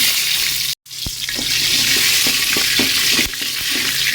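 Bay leaves, whole cumin and dry red chillies fry in hot soybean oil with a close, crackling sizzle. A brief silent gap comes near the start, then the spluttering resumes with scattered sharp pops and stirring sounds.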